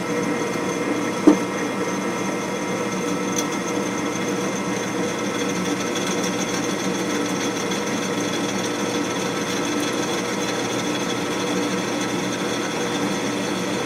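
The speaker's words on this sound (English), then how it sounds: "we're drilling a hole 7/16, and then we can actually pound them in" A drill bores a 7/16 hole through metal for harrow spikes on a homemade spike tooth harrow, a steady grinding whir running continuously at close range with one brief sharp knock early on and no talking.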